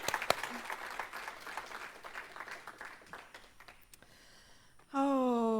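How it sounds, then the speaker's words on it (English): Audience applause at a gathering, a burst of clapping that gradually thins and fades over a few seconds, followed abruptly by a loud sustained musical tone. "Let's give her another round of applause."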